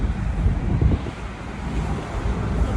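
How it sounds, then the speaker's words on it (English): Steady wind roar buffets the open cabin of a BMW 440 xDrive convertible driving with the top down and no windows up, a loud continuous rush with gusty swells and no talking. "I'm recording this with the top down, with the wind noise, no windows"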